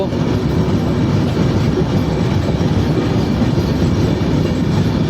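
A train rolls slowly across a long single-track rail bridge over the Jamuna river, giving a loud, continuous rumble with steady clattering wheels heard from on board and no voices.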